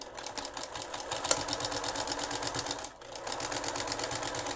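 A sewing machine runs continuously while stitching around a homemade scrubbie sponge, a fast, even mechanical chatter with one short pause near the end before it resumes.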